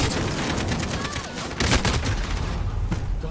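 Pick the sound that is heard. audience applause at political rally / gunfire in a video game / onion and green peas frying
gunfire in a video game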